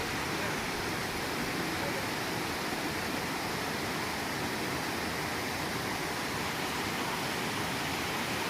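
Rushing water at Kolla Bailu waterfall near Madanapalle after recent rains, a loud, dense, unbroken roar filling the whole stretch with no other sounds standing out.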